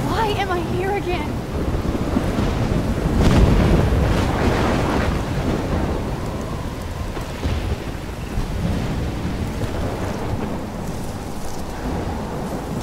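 Storm wind and crashing waves in the video game Life is Strange, a loud continuous roar with rumbling surges and gusts throughout.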